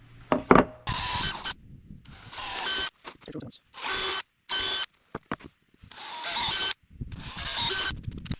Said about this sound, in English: I'll pre-drill these.